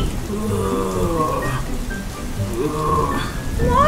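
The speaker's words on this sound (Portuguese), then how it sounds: "tá chovendo muito" Heavy rain pours steadily in Roblox Brookhaven, a loud continuous hiss, with a voice speaking over it.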